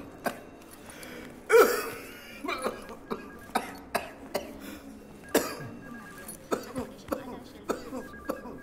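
A man coughing repeatedly in a Malayalam film scene, a loud burst early followed by a regular series of short coughs and throat sounds, with a little talk mixed in.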